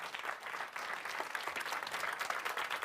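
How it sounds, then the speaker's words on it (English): Dense audience applause fills a town hall event as a congressman is introduced on stage, a steady, loud wash of many hands clapping from start to finish with no pauses. "Give him a big round of applause on the stage."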